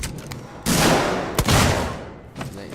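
Gunfire against an android in the video game Alien Isolation, with two loud, close blasts in quick succession, the second with a sharp crack. Faint game ambience sits before and after them.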